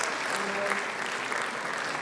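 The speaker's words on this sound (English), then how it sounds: "A big round of applause." Audience at a Class of 2024 graduation ceremony applauding the parents, a full, even roar of clapping from a large crowd that holds steady from start to end.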